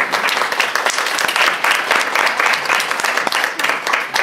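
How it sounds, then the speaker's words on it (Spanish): An audience applauds at a talk on mediation and conflict resolution through empathy, a dense continuous patter of many hands clapping, loud and close, lasting throughout without pause. "un aplauso, lo han dicho muy bien."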